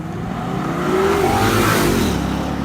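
A BMW i8 hybrid sports car accelerating hard, a steady loud engine roar with a rising whine building through the middle and holding near, no voices over it.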